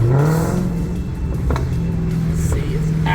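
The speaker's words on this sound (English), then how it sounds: "the exhaust note on this car is just absolutely killer" A 2020 Dodge Challenger SRT Hellcat Redeye Widebody rumbles close by, its exhaust droning low and steady with a brief rise in revs midway and no voices over it.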